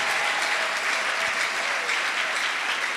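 Congregation applauding in a church service, a steady, dense wash of clapping from many hands that fills the room evenly throughout, with no voices rising above it.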